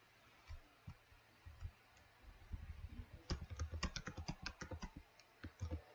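Quiet typing on a computer keyboard, sparse clicks at first and then a fast, dense run of keystrokes, close and soft with no talk.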